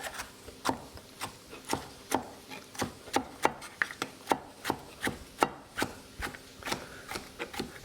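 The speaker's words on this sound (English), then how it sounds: "We'll chop these guys up." Poblano peppers are chopped with a knife on a cutting board in a steady rhythm of about two crisp thuds per second, close and clear with no talk.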